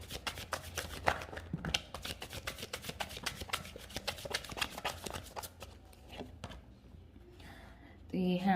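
Tarot cards being shuffled by hand: a run of crisp, rapid riffling flutters and soft card slaps close to the microphone, thinning out toward the end as a voice begins.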